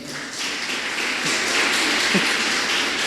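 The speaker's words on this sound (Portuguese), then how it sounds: "Você pode aplaudir ao Senhor?" A church congregation applauds during an evening service, a steady wash of clapping spread evenly through the whole stretch, with no voices standing out.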